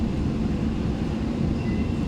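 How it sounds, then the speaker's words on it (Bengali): A Kolkata metro train runs toward Satyajit Ray Park station on a rainy evening, a steady broad rumble and rush that holds evenly for the whole stretch with no voices. "সত্যজিৎ রায় পার্ক মেট্রো স্টেশনের দিকে যাচ্ছে মেট্রোটা।"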